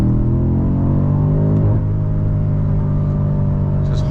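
A 2021 BMW M5 Competition engine holds steady high revs while driving, a loud, deep, continuous rumble with layered harmonic drone heard from inside the cabin.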